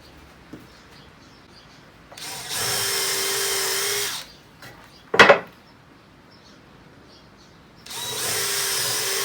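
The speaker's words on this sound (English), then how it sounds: "I'm going to drill them with a 1/8 inch hole to pre-drill." A drill whirs in two sustained bursts of a couple of seconds each, boring 1/8 inch pilot holes in wooden ladder boards, with a sharp clack between them; no voices.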